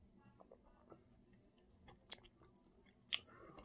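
Someone chews Feast & Fury Smoky Ghost Pepper craft potato chips up close, with faint soft mouth sounds broken by a couple of sharper crunchy clicks.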